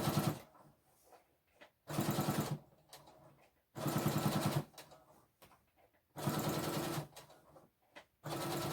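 A sewing machine stitches pockets onto a vintage-style apron in four loud, steady bursts of about a second each, separated by quieter pauses while the fabric is turned.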